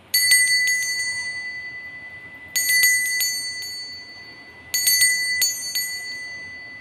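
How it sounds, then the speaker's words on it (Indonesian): A small bell rings in three bursts of rapid dings, each burst ringing out and fading, bright and close, with no talking. "kita akan memulai dengan ditandai lonceng berbunyi"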